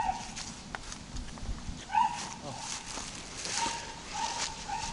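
A small neighbouring dog at a campground yaps and whines intermittently, sharp barks spaced irregularly at middle distance against quiet outdoor ambience.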